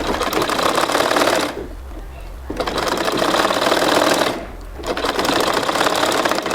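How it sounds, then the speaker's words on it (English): Sewing machine double stitching the pocket of a native-style trouser, running in steady rapid bursts with two short pauses between runs, close and loud. "It's always advisable to double stitch before you're sewing and at the end of your sewing"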